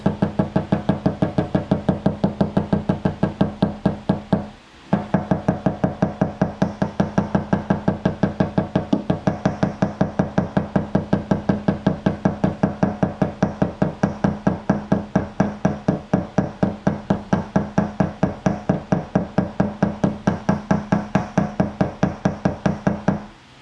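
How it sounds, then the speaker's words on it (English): Steady, rapid metallic tapping on hail-damaged Mercedes body panels knocks down the crown of dents, an even run of close knocks with one short pause. "I guess you just kind of walk this and tap this, and it's supposed to knock the crown down"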